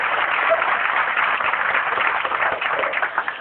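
An audience at a leadership training event in Cebu claps steadily for a few seconds, a dense wash of applause without a voice over it.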